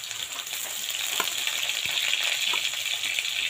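Grated onion and ginger sizzle steadily in hot oil for a dry fish dish, a constant bright crackling hiss with a few soft stirring clicks, close and alone with no talking.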